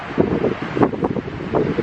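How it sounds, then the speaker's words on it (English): Strong wind buffets the microphone on a mountain overlook at Staunton State Park in Colorado, close, gusty rumbling bursts over a constant roar. "wind is absolutely killer though"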